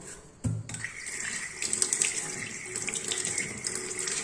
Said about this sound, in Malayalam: പൈപ്പേലും ഇതുപോലൊക്കെ നമുക്ക് കുറച്ച് ഇതുപോലെ വെള്ളം ഇതുപോലെ ഒഴിച്ചു കൊടുത്തതിന് ശേഷം ഇതുപോലെ തേച്ച് കഴുകാവുന്നതാണ്